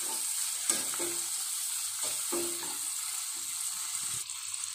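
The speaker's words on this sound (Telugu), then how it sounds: "ఇలా టమాటా ముక్కలు పచ్చిమిరపకాయలు మొత్తం ఫ్రై అయిపోయేంత వరకు మనం ఫ్రై చేసుకోవాలి" A soft sizzle rises from tomato pieces and green chillies frying in a pan, with several quiet utensil knocks and stirring scrapes at a moderate distance.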